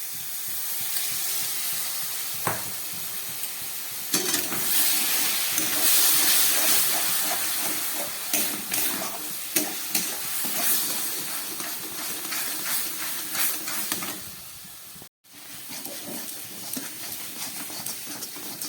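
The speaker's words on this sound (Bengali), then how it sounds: "নলেন গুড় দিয়ে খুব ভালো করে আমি একটু নারকেলটাকে ভেজে নিলাম" Grated coconut fries with nolen gur jaggery in a pan, giving a steady sizzling hiss broken by scraping and stirring clatters and a few sharper knocks throughout.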